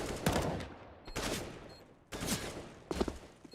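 Gunfire in the game Counter-Strike: Global Offensive during a professional match, heard as four sharp, loud bursts of rapid shots separated by short gaps.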